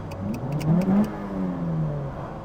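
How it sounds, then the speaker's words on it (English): A JDM car engine with an aftermarket exhaust runs with a deep, rumbling note that swells briefly as if blipped, then settles back to a steady burble. "It's got a bit of an exhaust in it,"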